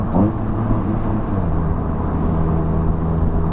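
Exhaust of an MEV Exocet kit car with an open cockpit and low ride height, heard while driving: a loud, steady, low droning rumble with a constant engine hum that runs unbroken throughout, with no voices.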